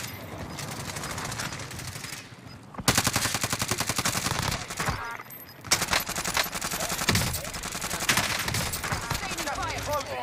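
Rapid automatic gunfire from a Call of Duty Warzone match, with dense bursts of shots running nearly nonstop and a louder burst partway through, while players talk over the shooting.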